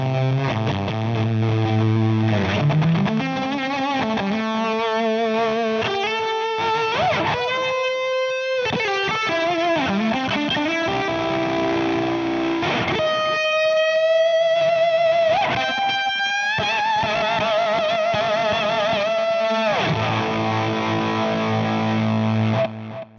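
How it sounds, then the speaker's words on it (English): An electric guitar with single-coil pickups played through fuzz and overdrive pedals, its thick saturated tone carrying sustained notes, sliding bends and strummed chords throughout without pause. "I actually like the sound of how single coils sound with the fuzz and with the Overdrive"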